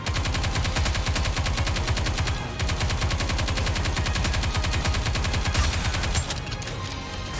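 Rapid automatic gunfire from the video game Nikke rattles on in dense sustained bursts, loud and continuous for several seconds before easing slightly near the end.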